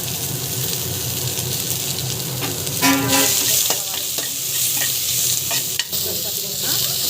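Chopped onions and green chillies sauté in a pan, a constant close sizzle with occasional stirring scrapes and a brief clatter midway.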